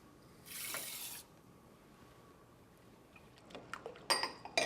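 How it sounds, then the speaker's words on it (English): Red lentils are rinsed under running water in a colander: a short, bright gush of water, then quiet, then a few light clinks and drips close by, with no speech. "just simply give them a brush of water in a colander"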